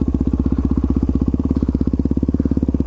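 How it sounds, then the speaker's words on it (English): A motorcycle engine runs right after a jump start, with a close, loud, rapid and even putter of firing pulses through the whole stretch. "Oh, better stall my bike. I'm gonna jump start it."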